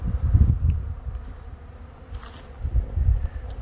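Low, droning buzz of honeybees close by in a bee yard, swelling and fading as insects pass near, with no voices.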